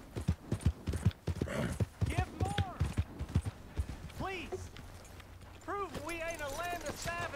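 Horse hooves clip-clop and gallop in the video game Red Dead Redemption 2, a steady run of rhythmic thuds heard under frequent male dialogue throughout.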